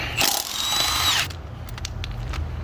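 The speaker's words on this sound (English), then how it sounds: "I'm using an impact, and with the impact it's gonna crack it for us" Impact wrench with a 17 mm socket loosening wheel lug nuts: one loud, rattling burst of hammering lasting just over a second, then a quieter background with faint clicks.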